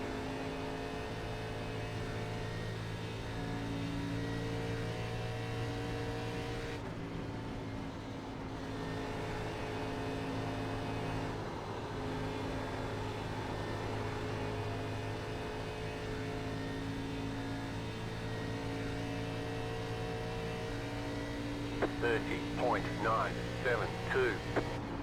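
Sustained ARCA race car engine drone in the iRacing sim at Charlotte, a steady harmonic hum held through a full lap with a brief dip partway through and some quick clicks near the end.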